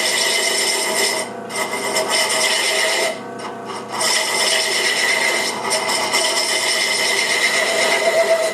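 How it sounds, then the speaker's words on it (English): A skew chisel shaves and rasps continuously against a wooden hookah mouthpiece, a steady scraping texture with brief pauses between strokes, close and fairly loud. "the skew chisels. These are basically just a very large razor that I'm going to now use to carve this down."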